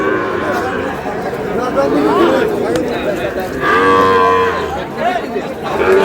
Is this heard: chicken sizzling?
no